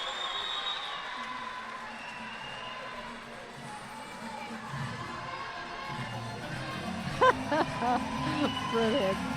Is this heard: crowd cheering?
yes